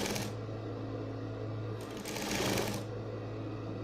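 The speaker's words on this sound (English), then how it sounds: "I'm sewing at the tip, just the down part of my bias" A sewing machine runs continuously, stitching bias tape onto fabric with a steady close mechanical whir that briefly rises in intensity midway.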